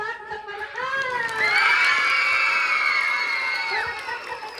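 A crowd of children at a school reading month costume celebration shouts and cheers loudly, voices rising together and holding for several seconds before easing off.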